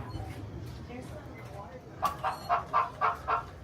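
Chickens at an outdoor farm area on Tom Sawyer Island at Walt Disney World, a run of about five loud, rhythmic clucking squawks close by after a stretch of background chatter from people.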